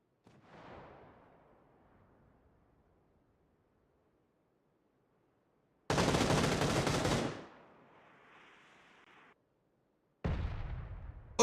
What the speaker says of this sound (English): I don't know who's shooting those mortars in